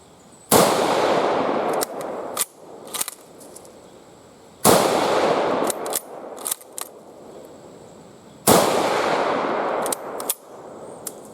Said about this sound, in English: we're going to shoot another 3 rounds down at 100